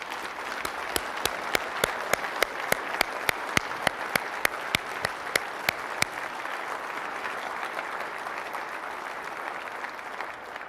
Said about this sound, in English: get an applause from the audience